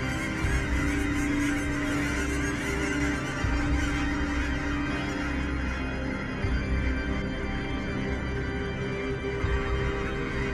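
A large flock of wild geese over American farmland honks in a dense, loud, continuous chorus, countless overlapping calls blending into a steady roar with no pauses.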